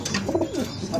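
Shirazi pigeons kept in cages coo softly at close range, a couple of low rolling calls in a brief moment.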